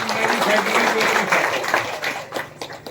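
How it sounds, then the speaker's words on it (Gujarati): Audience clapping at a welcome ceremony for MLA Anant Patel in Dashwada village, Pardi, Valsad, a dense wash of applause with a voice over it that thins out near the end. "એકવાર સૌને જોરદાર તાળીથી વધાવવા વિનંતી છે"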